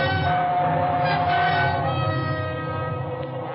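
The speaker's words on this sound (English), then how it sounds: "It was only the train going through the tunnel" A train roars through a tunnel as a radio-drama sound effect, a dense, loud rumbling wash with a droning whistle-like tone, continuous throughout and slowly easing off.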